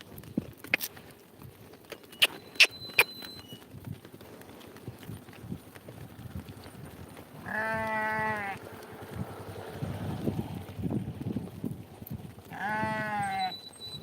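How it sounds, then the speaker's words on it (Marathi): Sheep bleat in two distinct, fairly close calls a few seconds apart, with scattered hoof clatter and faint rustling between them at a shepherd's flock. "बघा अशा मेंढ्या"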